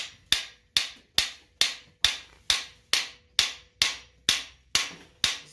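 A small cheap hammer strikes steadily to knock out a cam bearing on an Oldsmobile 403 engine, giving about thirteen sharp metallic taps at an even pace, each ringing briefly before the next, with no voices.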